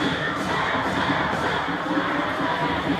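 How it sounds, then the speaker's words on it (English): A crowd in the stands at a high school varsity football game between Wadsworth and Medina cheers and shouts in a continuous, fairly loud roar of mixed voices. "Look, John, they're cheering for your birthday, my friend."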